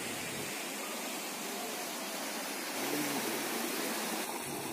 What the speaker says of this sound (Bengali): ওয়াটার ফলস থেকে জল পড়ার শব্দ কেমন হয় আপনারাও শুনুন।